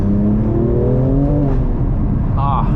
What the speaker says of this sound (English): let's put the windows down a little bit and you can hear the burbles